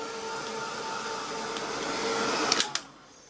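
Heat tool blasting hot air to dry a collage page in an art journal, a steady loud whirring hiss with a faint hum, close, ending in two sharp clicks as it shuts off, with no talking.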